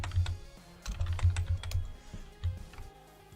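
Fingers type on a computer keyboard with irregular clusters of close, crisp key clicks and short pauses, no voices present.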